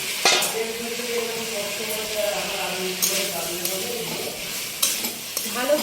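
Fried pakoras with a splash of soy sauce are stirred in a sizzling pan, with scraping utensil strokes and a few louder clanks over a steady frying hiss, while a voice speaks in the background.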